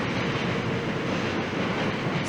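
Steady rumble of a crowded train carriage on a ride to Cardiff, a continuous loud roar of wheels and interior noise with no break.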